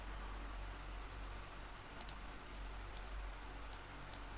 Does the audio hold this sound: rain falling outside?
no